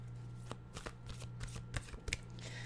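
Journey of Love tarot cards being shuffled up close, a run of soft papery riffles and slaps with an irregular rhythm over a steady low hum, no voices.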